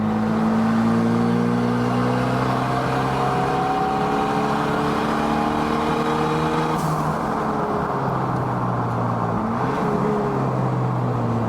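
A race car engine on a banked track, loud and continuous, its pitch climbing through the gears in long rising sweeps with a shift near the end.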